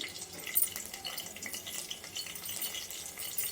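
Cinnamon, cloves, cardamom and green chillies frying in a pan for tomato bath, a soft, crackly sizzle with light stirring, quiet and close, without talk.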